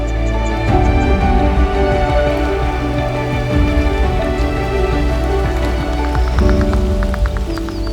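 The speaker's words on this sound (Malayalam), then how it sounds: "നല്ല മഴയൊക്കെ പെയ്ത് ഒരു ഫീൽ ഗുഡ് മൂഡ്" Steady rain pours down on surfaces in Kenya's Masai Mara, a dense continuous patter with a low rumble underneath.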